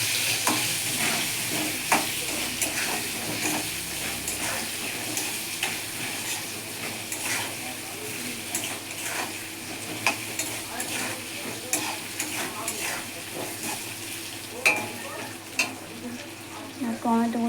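Bata fish curry with ridge gourd sizzles in a pan as turmeric goes in, a steady hissing fry broken by scraping knocks of a spatula stirring at irregular moments.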